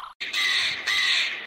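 A crow gives two loud, close, raspy caws in quick succession, each about half a second long, with near silence around them.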